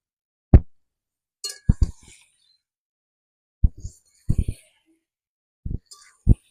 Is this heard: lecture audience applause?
no